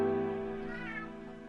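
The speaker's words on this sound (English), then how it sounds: "the cat's in now" A cat meows in one long, drawn-out call close by in a room during a Minecraft gaming session, its pitch rising and bending midway before trailing off, with no talk over it.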